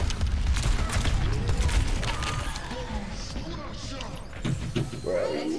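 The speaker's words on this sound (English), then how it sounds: "Just keep throwing these fucking bombs at me." Bombs exploding in the shooter Overwatch 2, a rapid string of booms and crackling blasts, heaviest early then thinning out, mixed with game effects while a player shouts over them.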